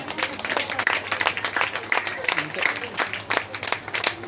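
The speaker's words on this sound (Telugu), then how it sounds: "అందరికీ మరొకసారి చక్కని చప్పట్లతోటి అభినందనలు తెలియపరచుకున్నాం." Applause from a congregation at a Good Friday church service, a steady patter of many hands clapping continuously throughout at moderate loudness, with a faint voice mixed in beneath.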